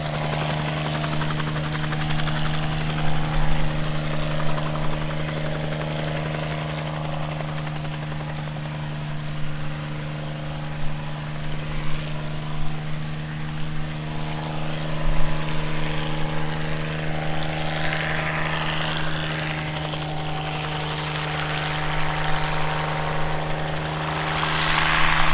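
A Bell 47 helicopter flies an airshow display at East Kirkby, its engine and rotor making a steady, loud drone with a constant hum that holds for the whole stretch, with no voices.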